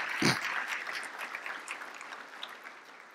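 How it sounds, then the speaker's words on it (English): An audience at a gala dinner applauds, opening with a sharp thump and then a soft, fairly distant patter of many hands that slowly fades across about three seconds. "Please give yourselves a round of applause."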